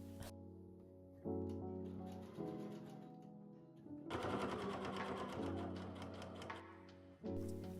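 A domestic sewing machine stitches around the armhole of a denim dress in several bursts, starting and stopping, with a louder faster run in the middle before a final short burst; no talk.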